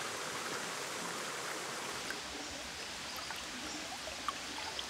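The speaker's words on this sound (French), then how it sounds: "au plus profond de la forêt coule la rivière Umilinga" The Umilinga river flows through deep forest in Cambodia as a steady, soft rush of water, even and continuous, with a few faint ticks and no voices.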